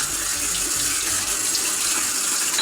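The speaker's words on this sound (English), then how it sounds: "A good rinse." Tap water runs steadily while a home-brewing bottle is rinsed under it, a close, continuous hissing splash with a slight hollow gurgle and no talking.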